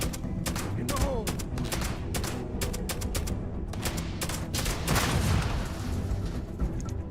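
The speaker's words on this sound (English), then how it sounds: "Was a very well thrown grenade." Rapid bursts of gunfire mixed with heavy thumps from a grenade blast in the video game Starfield, dense and loud throughout, with voices talking underneath.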